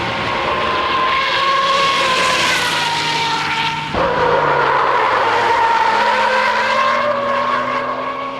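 A Nissan Skyline GT-R R34 is driven hard, its engine roaring steadily with long, loud tire squeals throughout and a sharp shift in pitch midway as it works through the corner, no talking.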